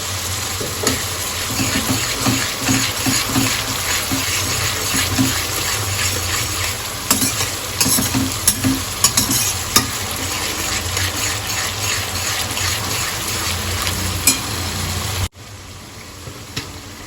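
Onions fry in a pan with turmeric and salt for Mehsana-style tuver totha, making a loud, dense sizzle broken by scraping stirs before the sound suddenly drops much quieter near the end; nobody speaks.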